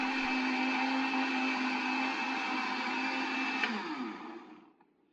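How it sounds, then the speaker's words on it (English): A kitchen blender whirs steadily and loudly as it blends a milkshake, running at a constant pitch for several seconds before winding down and stopping at the end, with no talking. "now we are going to cover the blender and blend it for some seconds till it's very smooth"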